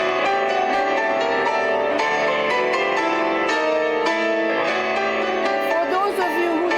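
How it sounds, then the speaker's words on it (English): Ulvi Cemal Erkin's piano miniature "Zeybek" plays loud and dense, with full, ringing chords and rhythmic accented strikes throughout. "This is a piece from a collection of small piano miniatures. It's called Zeybek"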